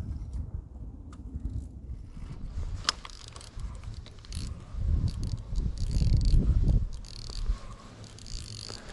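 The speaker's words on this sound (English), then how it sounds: "You'll have to excuse that annoying noise. It's the gears on my reel. They're shot." Worn-out gears of a fishing reel grinding while pike fishing from a riverbank: a continuous low, rough mechanical churning with faint ratcheting clicks, swelling louder midway, outdoors with no talk.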